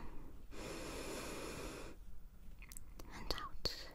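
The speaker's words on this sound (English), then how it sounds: "just take a deep breath in for me again. And out." A deep, slow breath is drawn and released during a doctor's chest exam, a close, airy whoosh lasting over a second, followed by quieter soft breaths and faint mouth sounds.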